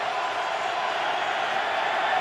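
A dense roar rises from a full stadium crowd at a Ravens–Steelers NFL game in 2012, steady and loud with no breaks for its whole short span.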